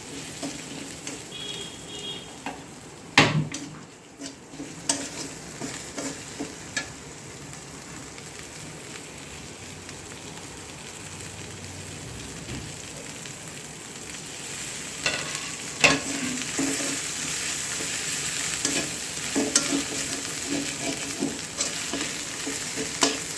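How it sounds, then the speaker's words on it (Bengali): Turmeric powder, coriander and garam masala sautéing in a pan for dal puri, a steady close sizzle broken by stirring scrapes and occasional sharp clatters of the spoon. "হলুদের গুঁড়া, এগুলো একটু কষাই নি।"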